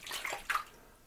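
Water poured into a pineapple mead mixture gives a faint, brief splashing and sloshing in two small surges that quickly fade.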